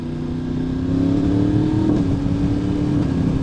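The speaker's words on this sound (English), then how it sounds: "the power feels pretty good just from that little squirt of throttle application" A Yamaha R1M sport motorcycle engine, freshly flashed, gives a short squirt of throttle, its steady idle-like drone swelling briefly in revs before settling, heard up close with no talking.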